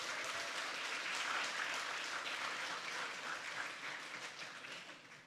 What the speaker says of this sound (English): give the graduates another round of applause